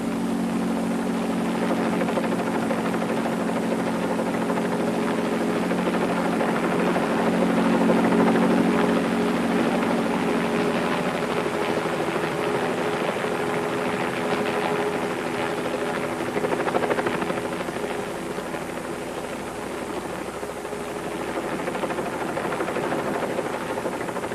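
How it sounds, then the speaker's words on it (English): Helicopter hovering and flying over the Grand Canyon during filming of a 1982 car jump stunt over the Colorado River, a steady loud rotor drone with a low throbbing hum that swells and fades slightly, no talk. "The helicopter camera position is tested on each run."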